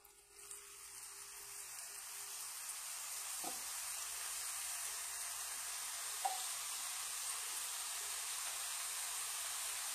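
Ribbon murukku frying in hot oil gives a steady, moderate sizzle throughout, with a couple of faint clinks from a utensil partway through and no voices.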